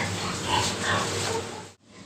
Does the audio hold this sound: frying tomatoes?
no